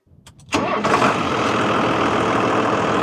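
A diesel tractor engine cranks briefly and catches after glow-plug warm-up, then settles into a loud, steady, close rumbling idle with no talking.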